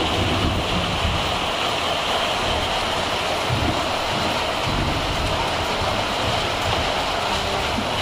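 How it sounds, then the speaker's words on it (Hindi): Heavy monsoon rain with big fat drops pours down outside a shop, a dense, steady hiss and roar that holds evenly for the whole stretch, loud and close, with no one talking. "बारिश स्टार्ट हो चुकी है, बड़े मोटे मोटे बूंदी गिर रही है ऊपर से"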